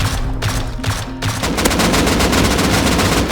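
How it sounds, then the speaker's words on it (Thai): Loud gunfire in the survival game Rust, a firefight against three enemies at a base, starting with spaced bursts and then turning into dense continuous automatic fire that fills the scene. "ยิงให้ตายสามตัวเลย ยิงเลยไอเอ็มทูยิงเลย"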